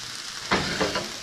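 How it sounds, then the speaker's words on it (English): Onions cooking in a pan for shakshuka sizzle softly, with two or three brief scraping stirs of a utensil rising over the low steady frying hiss. "And then we're going to stir it and cook it for another 3 or 4 minutes."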